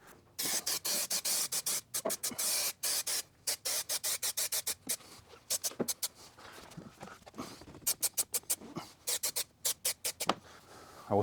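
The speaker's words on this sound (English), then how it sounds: "I'm going to spray the last bit now." Aerosol spray can hisses onto leather for a 1965 Ford Mustang door card, in short repeated bursts of varying length separated by brief pauses, loud and close with no talking.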